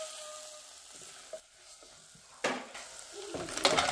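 Onions and tomatoes frying with curry powder, cumin and chili spices stirred in, a soft sizzle broken by a few distinct spoon scrapes and clatters against the pan, fairly quiet and close, no voices.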